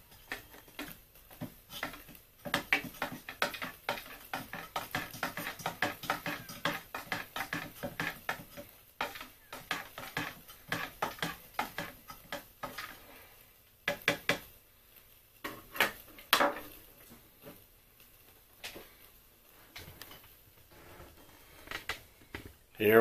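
A Mora 4.2 knife stirs a drink in a cup outdoors, producing light, irregular metallic ticks and clinks against the vessel that come in quick clusters, faint and close, with someone talking at times.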